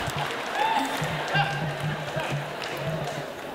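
An audience at a live literary reading cheers, a broad wash of crowd noise with scattered voices that holds steady for a few seconds at moderate loudness.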